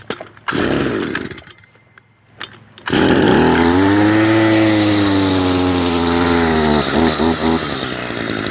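A Stihl Yard Boss small yard-tool engine sputters through a few pull attempts, then fires up and runs at a loud, close, steady buzzing idle with a slightly wavering pitch.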